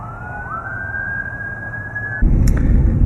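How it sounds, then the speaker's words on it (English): A fire engine siren holds a long steady wail in the distance, then cuts off as a loud rumbling roar takes over with a sharp short squeal. "we started hearing the sirens"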